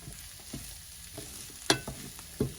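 Pomegranate seeds tipped into a pan of frying garlic and walnuts, giving a soft steady sizzle with a few sharp stirring clacks and splashes near the end, no voices.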